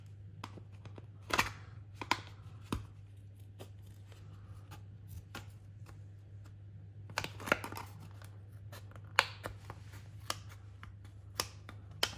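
Scissors cutting the window out of a plastic RC body shell for a Traxxas Maxx Slash, with scattered close snips and crackling cuts in irregular bursts over a steady low hum.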